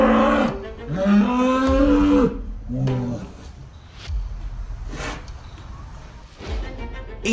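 Cattle on a farm low and moo in several drawn-out, harmonic calls, loud and close, with quieter gaps and rustling background between them.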